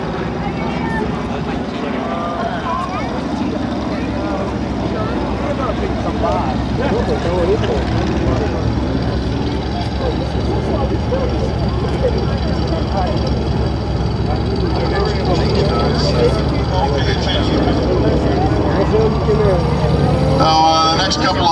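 Propeller warbirds, a Piaggio 149 and two North American T6 Texans, fly an airshow pattern at the Culpeper Air Fest, their engines droning steadily under an announcer's amplified commentary.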